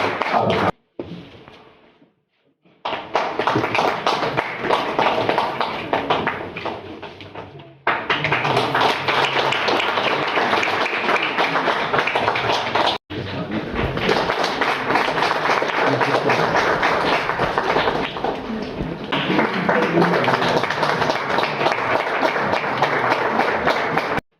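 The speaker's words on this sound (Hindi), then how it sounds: "बहुत जोरदार तालियों के साथ" Thunderous applause from a festival audience fills the hall at a film festival in Nainital, sustained in long waves with a brief break, loud and continuous.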